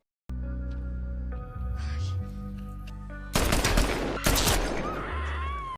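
Two loud bursts of rapid gunfire crackle in an action sniper film, standing out over a tense, droning score.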